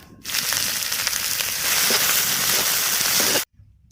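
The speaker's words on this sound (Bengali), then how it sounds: "তেজপাতা গোটা জিরে ভাজা হয়ে গেছে," Onions go into hot oil already frying bay leaf and whole cumin, giving a dense, loud, close sizzle that holds steadily for about three seconds and then cuts off.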